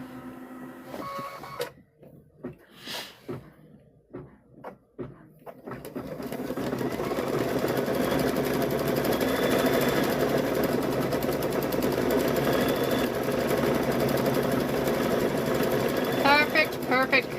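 Sewing machine stitching an apron starts after a few seconds of quiet handling noises and someone speaking, then runs fast and steady at close range to the end.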